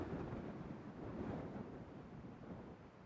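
Strong wind gusting across an Essex golf course, a steady low roar buffeting the microphone with no voices.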